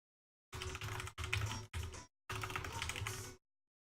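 Computer keyboard typing in quick, close bursts of clacking keys, four separate runs broken by short pauses, faint and without speech.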